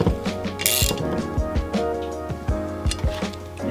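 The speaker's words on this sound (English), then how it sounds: "we are tightening up the studs" A hand ratchet clicks in quick bursts while tightening turbo studs on an Abarth during a big turbo upgrade, with sharp metallic pawl ticks close up and brief pauses between strokes.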